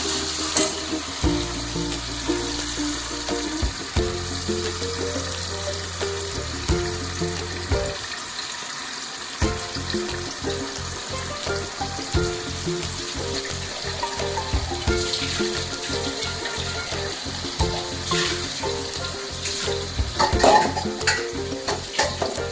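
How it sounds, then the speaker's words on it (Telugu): Chicken fries in a pan with ginger garlic paste and onion tomato paste, a continuous sizzle and stirring heard under background music. "సో ఇందులోకి జింజర్ గార్లిక్ పేస్ట్ ఇంకా ఆనియన్ టొమాటో పేస్ట్ కూడా వేసుకొని బాగా ఫ్రై చేసుకోవాలి"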